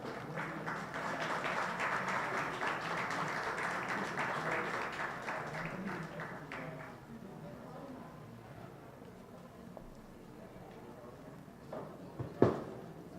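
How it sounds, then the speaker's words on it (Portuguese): Ceremony audience giving strong, steady applause for several seconds that then thins out and fades under voices, ending with a single sharp knock near the close. "nós recebemos um aplauso forte, senhora"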